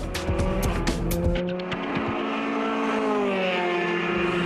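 A Formula 3 race car at the Hockenheim circuit screams past with tyre squeal, its engine note sliding downward as it passes, then holding a high sustained whine, loud and close with no talk.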